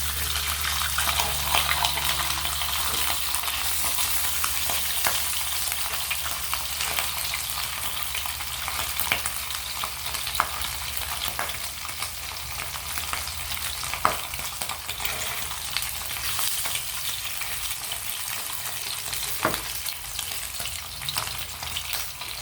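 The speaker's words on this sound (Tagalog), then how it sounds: "piniprito na natin yung ating pork chop" Pork chops fry in hot oil with a steady, loud, hissing sizzle, dotted with occasional sharp pops and crackles, heard up close.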